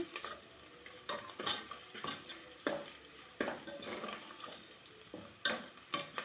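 Mutton and chicken frying in oil in a home kitchen, heard as quiet sizzling with repeated stirring scrapes and clinks of a spoon against the pot, close and without talk.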